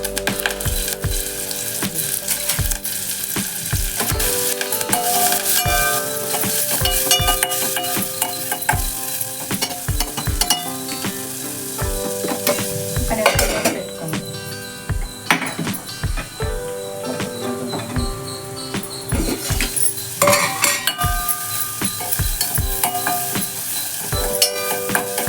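Onions, green chillies and curry leaves fry in a pan for an okra and egg curry, sizzling steadily while a spoon strikes and scrapes the pan in repeated sharp knocks, with music playing underneath.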